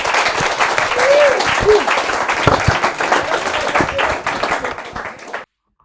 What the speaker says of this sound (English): as the applause fades and the bar empties